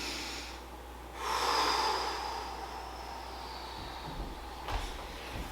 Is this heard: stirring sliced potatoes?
no